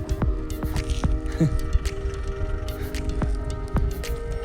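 A car engine knocking and rattling while struggling uphill at high altitude on the Umling La pass, a close droning hum with sharp periodic knocks and clatter.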